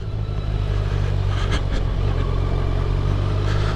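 A motorcycle on Avon Spirit ST tyres cruises along cool, greasy autumn roads, its engine a steady, loud drone with wind rush and a brief rise in pitch partway through.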